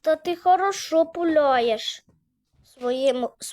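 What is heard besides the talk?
No distinct noise like a dog, phone or traffic.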